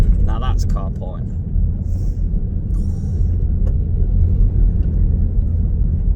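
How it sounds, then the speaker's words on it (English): A JCB Fastrac tractor driving past: a heavy, continuous engine rumble stays loud and steady throughout. A voice talks briefly at the start, and there are faint high clicks above the drone. "It was a tractor, a nice JCB Fast Track, beautiful tractor"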